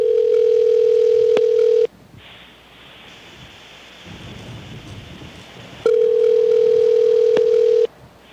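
A steady telephone ringback tone sounds in two long bursts separated by a quieter stretch of hiss and low rumble.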